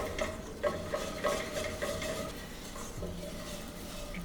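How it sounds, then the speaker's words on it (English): A whisk stirs melted butter and flour in a pan, giving soft rhythmic scraping with light metallic clinks over a faint sizzle. "Our butter's melted, we're gonna add in flour. Give that a whisk."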